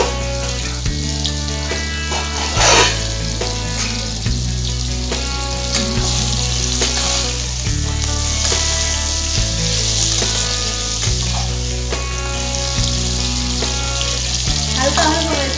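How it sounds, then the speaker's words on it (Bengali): Potatoes frying in a pan for Bengali-style mutton kosha, a steady crackling sizzle that stays even throughout, with background music playing underneath. "আলু ভাজা দেখি কতটা দেখি হয়েছে।"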